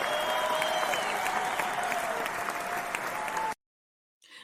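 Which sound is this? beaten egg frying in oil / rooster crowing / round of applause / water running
round of applause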